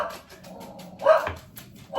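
Dogs indoors give a couple of short barks and yips toward someone at the door, close by and fairly loud in an otherwise quiet room.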